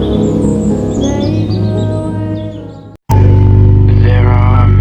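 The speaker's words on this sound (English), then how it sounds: "And the second thing I might hear is the birds chirping" Birds chirp and tweet over a loud, dense, steady background. The sound cuts out briefly, then returns even louder.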